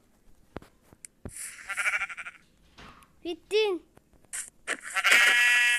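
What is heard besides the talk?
sheep bleating in a video game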